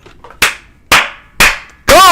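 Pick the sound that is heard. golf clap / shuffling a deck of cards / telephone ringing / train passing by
golf clap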